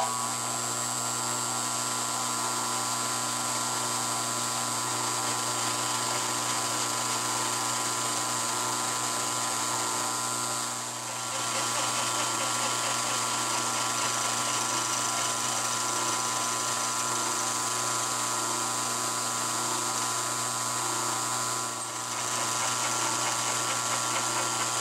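A high-pitched power tool whines steadily as it shaves wood off a brake, running continuously and close with two brief dips in pitch and level, and no talking.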